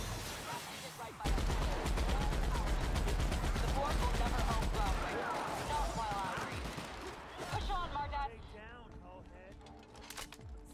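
Rapid video game gunfire from The Outer Worlds, loud sustained bursts of automatic shots for several seconds, then sporadic shots and combat effects as the shooting thins out.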